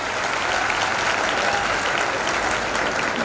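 Steady, loud applause from a crowd at a community gathering in Shirode, a dense unbroken wash of clapping that holds evenly for the whole stretch with no voices standing out.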